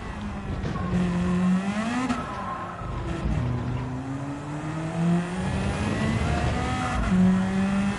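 A race car engine in the video game Gran Turismo 7 revs and shifts through gears, rising and dropping in pitch with sustained whine, loud and close, with brief tire squeal.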